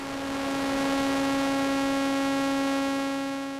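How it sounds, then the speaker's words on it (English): A Pittsburgh Modular Double Helix oscillator drones a fried sawtooth wave with heavy noise mixed in. The buzzing tone is steady, harsh and unbroken, with a hissy noise bed underneath and no talking. "Now we have a fried sawtooth, and you can see on the spectra display quite an amount of noise mixed into the signal"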